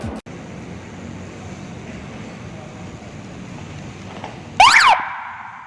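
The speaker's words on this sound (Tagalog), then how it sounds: "ngayon gugulatin natin sila guys sa ating busina" After a stretch of steady low background hum, a sudden loud, warbling horn blast sounds close by for about half a second, then cuts off.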